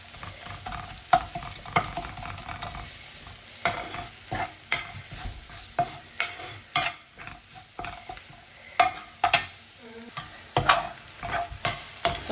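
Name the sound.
masala frying and being stirred in a pan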